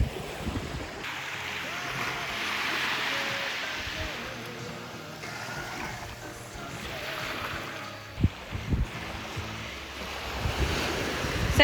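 Surf washes onto a beach at Punta Arenas, Vieques, in slow swelling rushes under gusty wind buffeting the microphone, with a few sharp knocks near the end.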